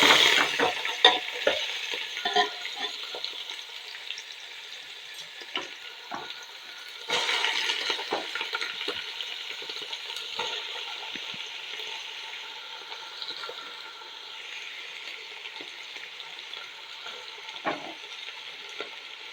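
Cut pork frying in hot oil, a steady close sizzle with crackling pops and occasional stirring scrapes, loudest at the start and again around the middle, then settling into an even hiss.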